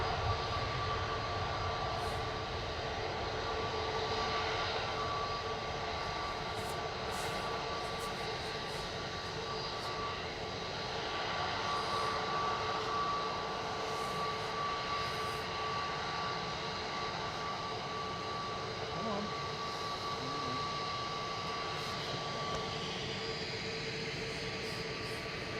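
An Airbus A320neo airliner sits lined up on the runway at Manchester Airport, its engines making a steady, distant broadband roar with a faint whine that holds evenly throughout, and no one talks.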